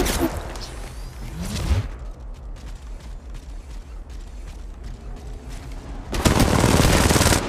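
Gunfire bursts in an Apex Legends match, loud close rattling volleys at the start and end with quieter mechanical clicks and scattered shots between.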